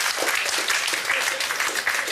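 A game show studio audience applauds, a dense, continuous patter of clapping hands that stays fairly loud and even throughout the short burst.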